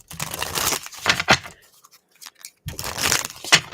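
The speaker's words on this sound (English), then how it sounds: "Let me shuffle this deck." A deck of tarot cards is shuffled in bursts, crisp riffling and rustling card noise in two dense stretches with a short quiet pause between, close to the microphone.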